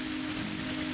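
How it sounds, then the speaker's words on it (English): Rain falling in the visual novel Higurashi When They Cry, a steady, even patter over a low, constant tone, with no voices. "Now it's raining."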